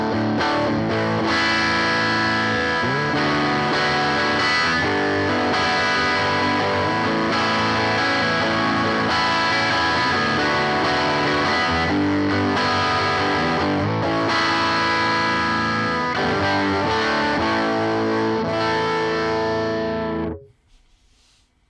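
An electric guitar with a single-coil tone plays through a ToneX capture from the Hyde Street Amp Locker, a distorted, effects-laden passage of sustained chords lasting about twenty seconds before cutting off abruptly.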